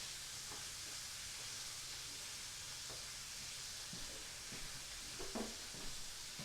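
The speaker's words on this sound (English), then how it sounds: "So now we're frying the tofu" Tofu frying in a pan on a stove, a steady soft sizzle and hiss with a few light clinks and stirring knocks near the end.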